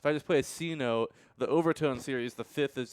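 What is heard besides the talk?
None of the usual background noises is heard.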